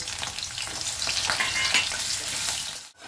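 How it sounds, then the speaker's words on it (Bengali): Potatoes fry in oil in a kadai for a mutton keema dish, giving a steady, dense sizzle that runs nearly unbroken before a brief drop at the very end. "আলুটা ভেজে নেব।"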